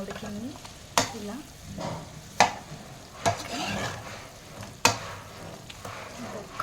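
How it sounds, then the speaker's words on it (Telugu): Chicken frying over a low flame for a healthy chicken fry, with a steady soft sizzle and a few sharp, spaced scrapes and clacks of stirring, close by and with no talk. "దీన్ని ఇప్పుడు మనం ఇంకా కుక్ చేసుకోవాలి. సిమ్లో పెట్టి కుక్ చేసుకోవాలి."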